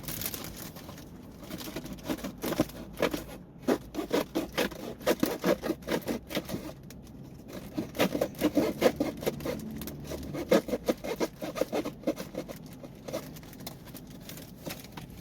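A plum cake gift box, a New Year present, is cut open up close: irregular bursts of scraping, rubbing and slicing against cardboard and wrapping, with short pauses between strokes.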